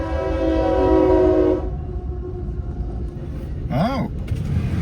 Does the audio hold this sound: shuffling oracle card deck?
no